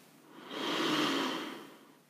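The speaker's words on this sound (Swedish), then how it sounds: "Andas in. Andas ut." A single slow, audible breath in and out during a morning yoga session, close and soft, swelling in the middle and fading away with no talk.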